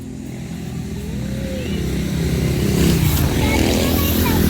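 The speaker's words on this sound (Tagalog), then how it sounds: "Yuri, may motor." A motorcycle approaches and passes close by, its engine rising steadily in loudness with a revving, shifting pitch, while voices are faintly heard.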